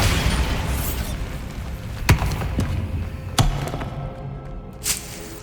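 Bombarda blasting spell cast in Hogwarts Legacy, heard as several sharp booming impacts spaced a second or so apart over a low rumbling game backdrop, without talk.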